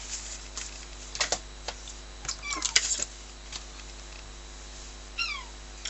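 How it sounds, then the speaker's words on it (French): A domestic cat meows a few short times at close range in a quiet room during a paper-craft envelope album workshop, with light tapping and rustling in between and no talk. "Non, non, tu montes pas. C'est mon chat."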